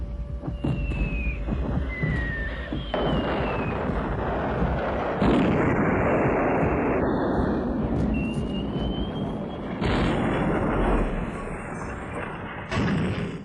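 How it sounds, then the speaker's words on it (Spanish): A World War II Junkers Ju 87 Stuka dive bomber sounds its siren whistle, a high falling wail that recurs amid heavy booming explosions and rumbling thuds, loud and chaotic throughout. "Reconocerás el ruido, pero aquí está en toda su autenticidad, la muerte silbante del Stuka."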